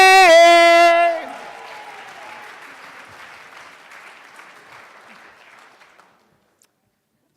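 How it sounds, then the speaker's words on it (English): Audience applause and cheering at a live storytelling slam, loud at the start and quickly tapering to a scattered, fading clatter of claps that dies out over several seconds. "You guys ready for our next storyteller? Make it loud for Matty!"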